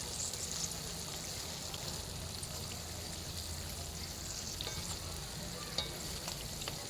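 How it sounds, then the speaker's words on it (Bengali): Cauliflower pakoras deep-frying in hot oil, a dense, even bubbling sizzle that runs throughout, with one faint clink partway through and no voices. "একটুখানি ভেজে নিচ্ছি"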